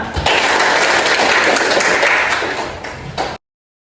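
A class audience bursting into loud, dense applause that holds steady for about three seconds, then tapers and cuts off abruptly.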